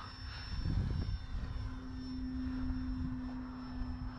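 An E-flite Valiant 1.3 m electric RC plane flies overhead, its motor a thin steady whine with a brief louder pass at the start, moderately distant in open air.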